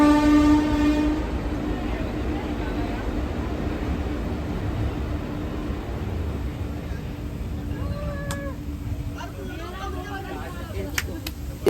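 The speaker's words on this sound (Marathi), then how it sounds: "ट्रेन आली पाहिजे फक्त आता." A train near the KP waterfall at Khopoli in the Sahyadri hills by Lonavla sounds a brief horn blast at the start, then a steady rumbling rail wash fills the rest while voices call out near the end.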